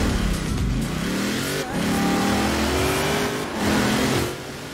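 Forza Horizon 4 car in a winter race, its engine loud and close as it revs and accelerates through rising gear pulls, with brief dips between shifts and a drop in intensity near the end.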